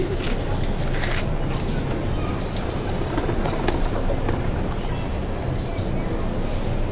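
Pigeons coo in a loft or yard, with soft repeated cooing calls over a dense, steady background of noise and rustle, fairly close and continuous throughout.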